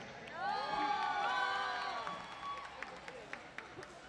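A concert crowd at an outdoor show in Monterrey cheers and shouts in a swelling roar, which fades into scattered claps and whistles toward the end, heard from some distance.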